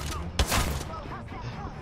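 Gunfire in a video game: a loud burst of shots around the middle of a short stretch, set against busy game noise with voices talking excitedly.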